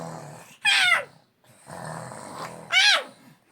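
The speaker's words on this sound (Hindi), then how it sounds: "खर्राटे मत लो।" A man snoring while asleep at night, two loud rasping snores a couple of seconds apart with quieter breathing between them, heard close by.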